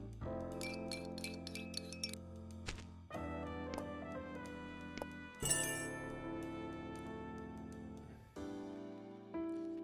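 Drink being stirred in the Zipp's Café video game, a run of bright glassy clinks and tinkles in quick succession with pauses between groups, clear and close with no talk.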